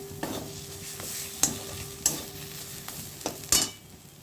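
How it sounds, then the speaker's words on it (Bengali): A spatula stirs and scrapes mashed yardlong bean paste around a kadai in irregular strokes, with a few sharper scrapes against the pan and a faint sizzle underneath, close and with no talk. "এভাবে নাড়তে নাড়তে নাড়তে নাড়তে যখন দেখবেন এটা কড়াই থেকে এরকম আলগা হয়ে যাচ্ছে"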